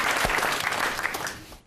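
A studio audience at the Deal or No Deal game show applauds loudly and steadily, a dense wash of many hands clapping that cuts off abruptly near the end.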